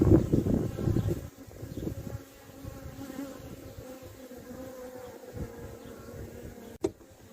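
Honey bees humming at an opened hive while a frame is checked for the queen, loud at first then settling into a steady nearby drone, with a sharp knock near the end.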